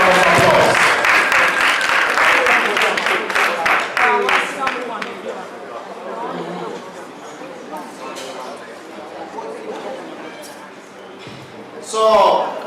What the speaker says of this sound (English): Please, let's give her a big round of applause.